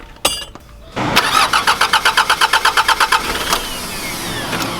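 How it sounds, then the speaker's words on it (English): A 1993 Mitsubishi Delica L300 turbo diesel with a freshly repaired fuel leak cranks in a rapid, even rhythm for about two seconds, then catches and settles into a steady, loud close-up idle. "fire it up"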